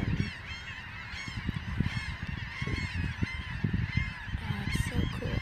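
A flock of birds honking at sunrise on Egmont Key, repeated overlapping goose-like honks at moderate distance, rising and falling over a soft outdoor background.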